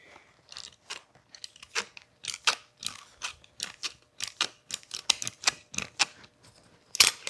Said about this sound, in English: it's a little bit quicker and easier just to cut this off